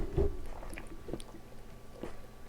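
A person gulps water during a casual podcast recording, with three or four soft, separate swallowing sounds spaced about a second apart, close to the mic in a quiet room.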